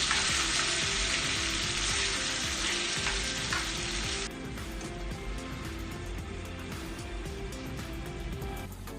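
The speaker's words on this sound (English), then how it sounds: "And fry until soft." Squares of meat fry steadily in a pan, giving a loud, continuous sizzle with bright crackle that softens partway through, with faint stirring underneath and no voices.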